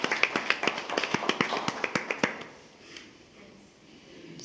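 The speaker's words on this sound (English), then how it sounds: "let's give them a round of applause" Scattered handclaps at a school district board meeting, a few hands clapping irregularly for honored retiring employees, fading out after about two seconds into quiet room tone.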